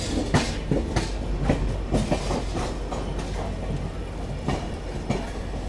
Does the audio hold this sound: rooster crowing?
no